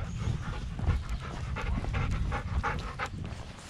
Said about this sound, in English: Got the dogs.